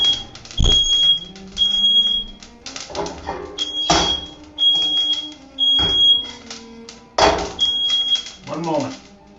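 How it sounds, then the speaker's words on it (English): A smoke alarm beeps in a repeating high-pitched pattern, loud and close, set off by a smoking pan while roasting coffee, as people talk and clatter around it. "The smoke alarm."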